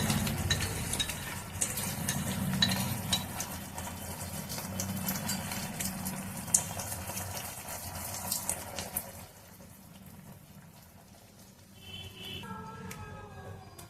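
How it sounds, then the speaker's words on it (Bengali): Cornflour slurry poured into bubbling chili paneer gravy, a soft continuous sizzle and simmer with stirring that quietens toward the end before a short clatter. "এবার আমি যে বাটিতে 1 চামচ কর্নফ্লাওয়ার নিয়ে গুলে রেখেছিলাম সেটা দিয়ে দেবো গ্রেভির"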